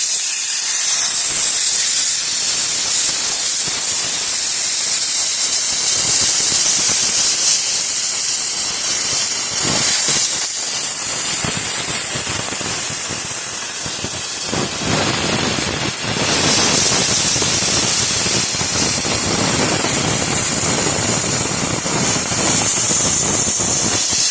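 Loud, continuous hiss of compressed air blowing, bright and rushing, with slight surges and dips in intensity over a long stretch.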